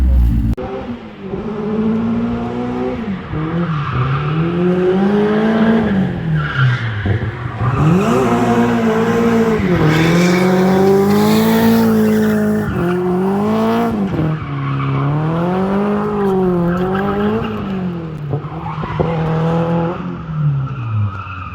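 A rear-wheel-drive drift car, either a K24-powered Civic or a Nissan S14, drifting on a track in Portugal. A loud, close engine revs and wails continuously, with tire squeal and skidding running underneath for about twenty seconds, and no voices.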